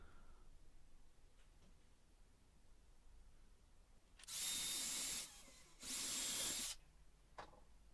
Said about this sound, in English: Then all I needed to do was to just pilot the holes and drive in the screws.